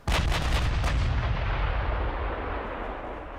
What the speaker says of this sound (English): we're finally within torpedo range, and as you can see, we've fired a shit ton of them